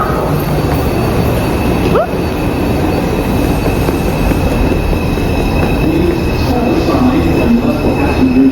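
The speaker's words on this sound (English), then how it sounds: "This is a Brooklyn-bound 5 express train." A Brooklyn-bound 5 express subway train rolling along the track, a loud continuous rumble with steady wheel noise and occasional faint squeals, heard up close from inside the car throughout.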